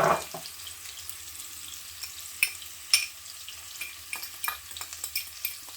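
Ingredients for brown stew salmon being added to a hot pan, a soft steady sizzle broken by scattered light clicks and stirring taps, fairly quiet and close, with no talking.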